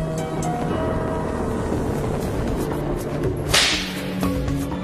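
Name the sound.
whip cracking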